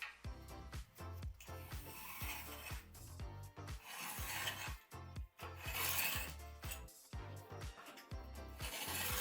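A blade saws through an RWA mineral wool insulation slab for a light gauge steel frame, giving a close, rough rasping in quick irregular strokes with brief pauses between them.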